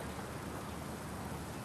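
Steady, dense rain falls close by, a continuous broadband hiss with no other sounds standing out over its whole length.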